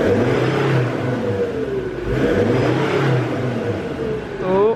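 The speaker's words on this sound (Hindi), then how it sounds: "तो अब एक बार एग्जॉस्ट नोट सुनाएंगे" A BMW M3 revs its exhaust in a few rising and falling bursts, close and loud, with a deep note that swells, drops back and climbs again near the end.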